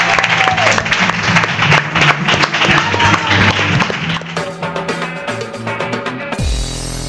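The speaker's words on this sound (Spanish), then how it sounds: "Y te acompañamos en tu fundido negro hacia la barra con este fuerte aplauso" A studio audience gives loud, sustained applause for a guest on a Spanish film-directors podcast, with music playing underneath before the clapping cuts off abruptly into a short closing music sting.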